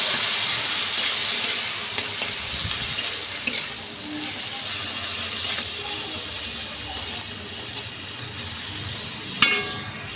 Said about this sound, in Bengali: এবার এটাকে আমি একটু ভালো করে ভাজা ভাজা করে নেব।